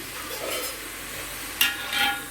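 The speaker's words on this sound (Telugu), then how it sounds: "ఇలా వేయించుకుంటా ఉండండి తిప్పుతానే ఉండండి మధ్య మధ్యలో వదలొద్దు" Onions fry in a pan for a fish tamarind curry, a soft sizzle with scraping stirs and a couple of sharper clinks of the utensil against the pan, close and alone.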